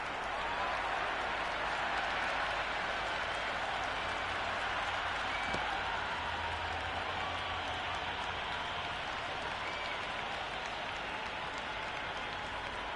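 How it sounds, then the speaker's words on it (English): A dense, steady roar of a stadium crowd cheering and clapping at a T20 match in the cricket video game Cricket 26, continuous and even throughout with no pauses. "this match is certainly getting exciting and the crowd have joined the party. It's pretty noisy in the ground."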